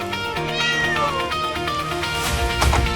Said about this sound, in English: Wait, do you hear that? Those are cats!